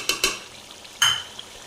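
A spoon stirs chicken and vegetable curry with yogurt in a pan, making a few brief scraping strokes, two quick ones and then a longer one, close by with no talk.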